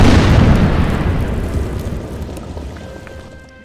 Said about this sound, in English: We are going to bombard this guy.